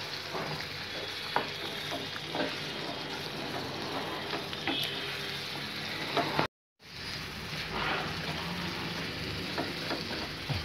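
Rava kichadi with vegetables stirred in a hot pan, giving a continuous close sizzle with scattered scraping ticks and a brief silent cut midway.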